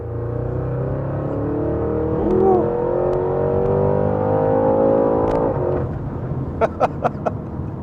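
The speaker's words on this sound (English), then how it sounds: "You can hear that intake now really kick in." A 2025 Porsche Cayenne GT Turbo engine accelerates with a loud, sustained intake roar that builds and holds, then drops off near the end as a few sharp clicks or pops follow.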